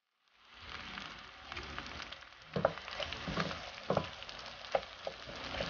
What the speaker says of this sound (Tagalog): hinihintay po nating maluto-luto ng kaunti ang kamatis at sibuyas